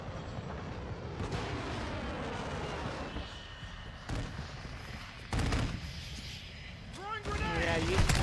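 Explosions and gunfire in a first-person shooter video game, sharp blasts and crackling shots amid ongoing battle noise, with people talking over the action.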